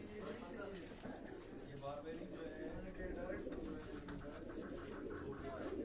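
Pigeons from a Quetta loft coo in soft, repeated throaty phrases close by, and someone speaks continuously over them.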